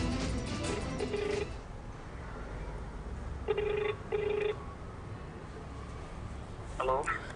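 A telephone rings over a phone line in a few short tonal bursts with gaps between them, set against a steady background hiss, during a news report on a call placed to a black-magic practitioner.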